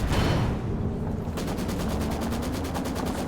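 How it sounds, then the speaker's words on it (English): Walking Stuka rocket barrage in a strategy video game, a loud sustained roar of rapid explosions and launches with a pulsing, repeating rhythm throughout. "In comes the walking Stuka for another barrage."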